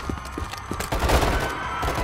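Gunfire in Call of Duty: Modern Warfare 3 (2023) on Veteran difficulty, with a few sharp early shots giving way to dense, loud overlapping bursts in a building stairwell and concourse.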